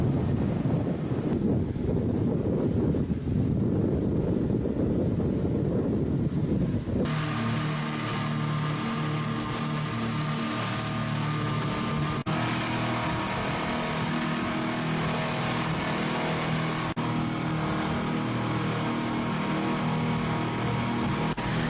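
A catamaran boat runs at full speed across open sea near Phi Phi Island, a continuous engine drone with wind buffeting the microphone, heavy at first, then a steadier motor hum carrying on throughout.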